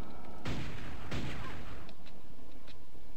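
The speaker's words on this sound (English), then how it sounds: "Nail gun." Nail gun firing in the video game Quake: two sharp, loud blasts in quick succession, followed by a few faint clicks and ticks as the noise dies away.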